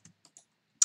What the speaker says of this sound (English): I've set up keyboard shortcut just to duplicate it using Control Shift D